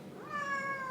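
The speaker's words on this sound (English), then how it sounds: "She is a very curious cat." A house cat gives one clear, rising meow, close and fairly soft, in a quiet indoor room with no one talking.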